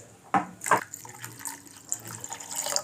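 Water splashes and pours in a few short bursts close by into a tamarind mixture, with small liquid gurgles and drips between them.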